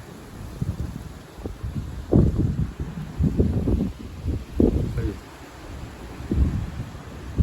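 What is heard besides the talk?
strong southwest wind gusts rustling leaves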